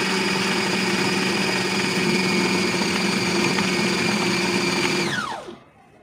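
A kitchen grinder whirs loudly and steadily while mixing kebab mince with gram flour, then winds down and stops near the end.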